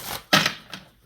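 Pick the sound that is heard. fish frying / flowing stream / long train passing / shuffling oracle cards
shuffling oracle cards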